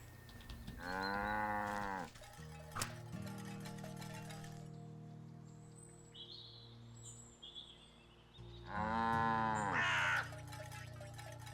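A crow caws in the video game Wytchwood: two drawn-out, harsh harmonic calls, clear and close, separated by a stretch of quiet ambient tones and small chimes.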